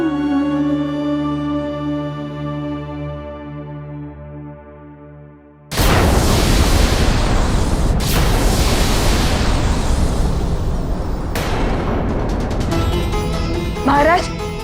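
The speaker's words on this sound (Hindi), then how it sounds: "ये कैसी ध्वनि है? ऐसा लग रहा है जैसे कोई भयानक विस्फोट हुआ हो।" A sudden loud explosion sound effect in a mythological TV drama cuts off a sustained musical drone, followed by a roaring, rumbling burst with further thuds and a rising, turbulent tail.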